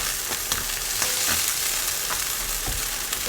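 Fish cakes stir-fried in a pan give a continuous close sizzle, with a few light scraping stirs breaking through at irregular moments and no talking.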